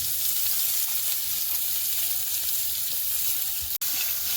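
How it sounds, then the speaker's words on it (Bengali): Dried chili, chopped onion and crushed garlic fry in hot oil with a steady, close, broadband sizzle that holds even throughout, broken by one brief sharp click near the end. "তেলের মধ্যে দিয়ে দেবো একটা শুকনো লঙ্কা পেঁয়াজ কুচি আর রসুন থেঁতো করা"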